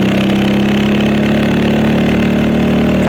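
A motorcycle engine runs in third gear as the throttle is rolled on, giving a loud, close, steady mechanical drone that holds even throughout without pauses.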